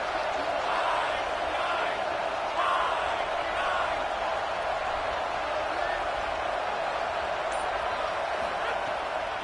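College football stadium crowd noise, a constant broad roar with occasional swells of shouting, heard at a distance and running steadily throughout.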